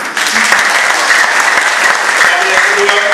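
Congregation at a church anniversary celebration in Jakarta claps in a loud, sustained burst of applause, steady from start to finish, with voices mixed in.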